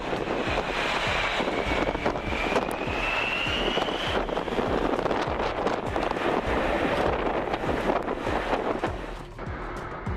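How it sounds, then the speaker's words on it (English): Heavy wind roars and buffets continuously around a Boeing 747 on approach in a strong October crosswind near Barcelona, a loud, rough rush of air with gusty bursts throughout. "Very strong winds had taken the skies October 2020 around Spain, especially in Barcelona."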